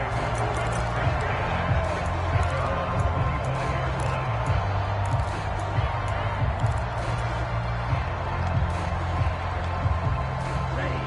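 A stadium crowd in a football video game roars as a steady, dense wash beneath continuous play-by-play commentary, holding an even level across the stretch.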